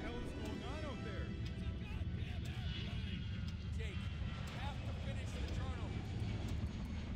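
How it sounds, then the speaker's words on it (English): An airplane roars overhead in the horror game Underhell, a dense, steady engine drone that fills the scene with a house burning nearby, while a person talks over it. "It's a goddamn airplane."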